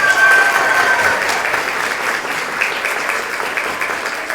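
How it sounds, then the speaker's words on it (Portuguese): Audience applause at an education event on ethnomathematics and ethnosciences, loud continuous clapping that swells at the start and holds steady, with faint crowd murmur beneath. "queria também pedir outra salva de palmas"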